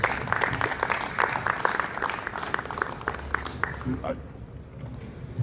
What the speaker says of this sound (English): please could we give one last round of applause for Tom, Ailton, Luke, and Daniel